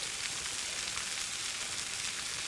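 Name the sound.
shallots sizzling in a hot pan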